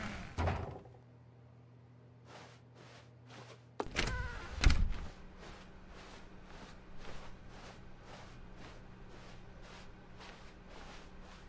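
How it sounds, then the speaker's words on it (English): A door opens in The Stanley Parable, with a soft thunk and clatter near the start, then a louder burst of handling and a latch sound a few seconds in, followed by a steady low room hum and faint repeated ticking. "When Stanley came to a set of 2 open doors, he entered the door on his left."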